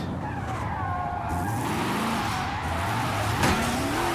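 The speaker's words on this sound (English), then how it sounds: "Pull up in the house, drifting around." Forza Horizon 5 car drifting, with a continuous loud tire squeal and skid over a roaring engine, the pitch sliding up and down as the car slides, and a sharper screech near the end.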